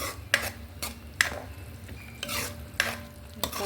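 Onion mixture for chicken korma masala sautéing in hot oil, with steady sizzling under several sharp stirring scrapes and clinks of a utensil against the pan, close and moderately loud.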